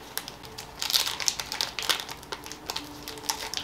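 A cookie package is torn open by hand, giving a run of close, crisp crinkling and ripping bursts of plastic wrapper over about three and a half seconds.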